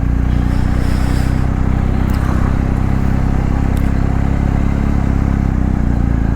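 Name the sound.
BMW R 1250 GS Rallye boxer engine motorcycle riding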